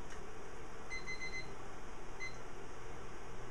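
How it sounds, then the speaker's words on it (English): Kitchen timer being set beside a stove, a few short, faint high beeps in two small bursts over a low room hum. "now I'm going to set my timer"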